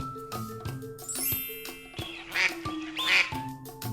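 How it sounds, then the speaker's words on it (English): A farm duck quacks loudly several times in quick, raspy bursts over a light chiming melody. "Duck lives at farm."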